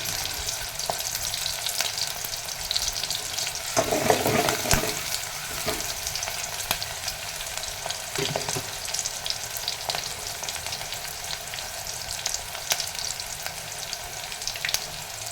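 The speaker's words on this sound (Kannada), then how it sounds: "ಎಣ್ಣೆಯಲ್ಲಿ ಚೆನ್ನಾಗಿ ಫ್ರೈ ಆಗಲಿ ಈಗ ಕರಿಬೇವು ಇದ್ದೀನಿ" Curry leaves fry in hot oil for a capsicum curry, a steady close sizzle with brief louder bursts of spattering as they hit the oil and are stirred.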